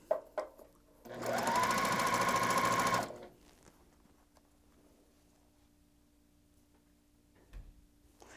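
A domestic sewing machine runs a two-second burst stitching quilt block pieces sewn right sides together, close and clear, then falls quiet apart from faint handling noises.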